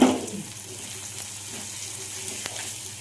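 A spice paste of ginger, garlic, onion, tomato and ground spices frying in a pan, a soft, steady sizzle at close range, alone without talk.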